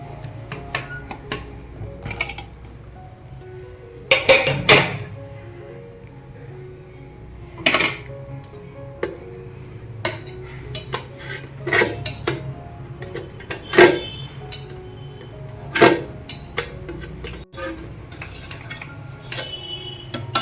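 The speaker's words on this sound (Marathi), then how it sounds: "हे बघा इथं आपला कुकर थंड झालेला आहे. आपण आता झाकण काढून घेऊया." The lid comes off a cooled pressure cooker holding potato and sago chakli dough, with scattered metallic clinks, taps and scrapes of pot and lid against a quiet kitchen background, some louder knocks clustered in the middle.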